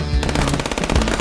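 Rapid machine-gun fire in the FPS Chess video game, a loud, dense, continuous burst of closely spaced shots lasting about a second.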